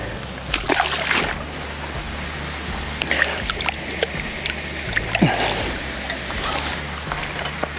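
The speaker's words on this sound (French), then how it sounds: "Allez, on la remet à l'eau" A carp caught while fishing is let back into the water, with a close, wet splash among lighter sloshing and dripping at the water's edge outdoors.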